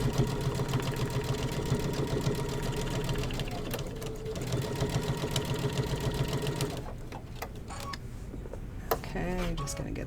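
A sewing machine runs a straight stitch in a steady fast mechanical rattle for about seven seconds, then stops, leaving a few clicks and handling sounds.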